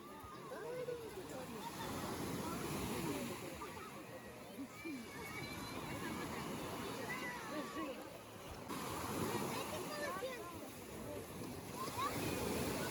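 Waves wash and break on a shore in a steady, close rush, with wind buffeting the microphone and faint distant voices in the background.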